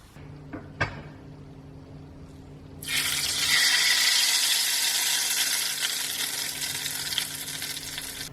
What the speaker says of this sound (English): Turn the heat off and we're going to pour this into our dal.